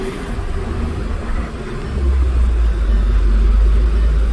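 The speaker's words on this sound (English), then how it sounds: "The old turbo's still building some boost." A 2006 VW Beetle TDI diesel engine pulls under load while driving, a low steady rumble that swells louder partway through as the turbo builds boost, with no voices.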